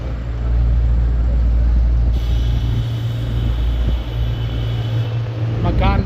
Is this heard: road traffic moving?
yes